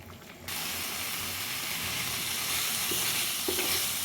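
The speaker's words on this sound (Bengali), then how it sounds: "হাই ফ্লেমে করে দিলাম, এটা ফুটছে এবার।" A pan of crab masala sizzles and bubbles loudly and steadily on high flame after a brief quiet start, with a faint clink or two near the end.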